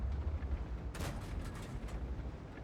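A single heavy boom from the T92 light tank's gun in a tank battle game, loud and sharp, then a short rumbling tail over low steady engine hum.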